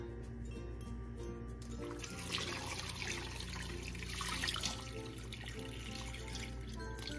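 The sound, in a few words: water poured into beef pot for sinigang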